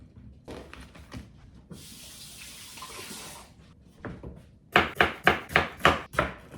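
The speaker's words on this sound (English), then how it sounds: "Cutting my lemon." A knife cuts through a lemon on a board in a home kitchen, ending in a run of six sharp, evenly spaced chopping thuds after softer handling sounds and a stretch of running tap water.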